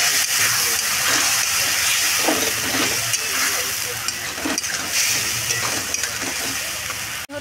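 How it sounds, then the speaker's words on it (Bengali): A spice paste for country chicken sizzles and fries steadily in a pan, a loud, continuous crackling hiss with occasional stirring clinks, ending with a brief scrape. "মশলাটা আমার এখন কষানো হয়ে গেছে।"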